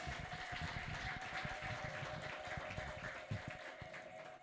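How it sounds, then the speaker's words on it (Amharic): A church congregation claps together for the Lord during a sermon, a dense, steady patter of many hands heard from a distance at low volume, with a faint sustained tone running beneath it. "እስቲ አጨብጭቡ ለጌታ ክብር።"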